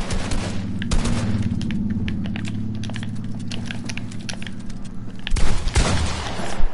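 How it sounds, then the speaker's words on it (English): Rapid automatic gunfire from an AR-style gun in a PS4 shooter game, a fast, loud, steady burst lasting several seconds, cutting off briefly and then resuming for a final short volley. "they programmed a gun to shoot like that"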